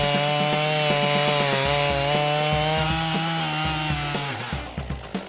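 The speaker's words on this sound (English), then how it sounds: "let's grab our safety gear and put these Timber Tuff tools to work." A chainsaw fitted with a freshly sharpened Timber Tuff chain cutting through wood, a loud, steady high-revving whine that holds for several seconds, then bogs and sputters down near the end, with no talk.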